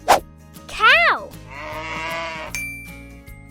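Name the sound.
cow mooing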